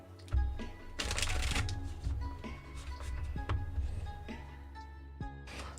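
Tarot cards being shuffled by hand, a run of close, papery riffling bursts and soft slaps repeating over several seconds, with a song playing quietly in the background.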